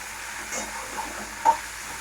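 Dried red chillies and peanuts fry in a pan with a faint, steady sizzle and hiss, plus a brief soft stir or clink near the end.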